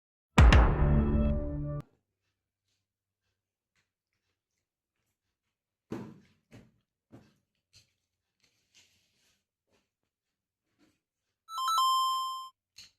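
A mobile phone ringtone plays loudly in two short bursts, a harmonic chime at the start and a brighter electronic tone near the end, with faint chewing and small clicks between them in otherwise quiet surroundings.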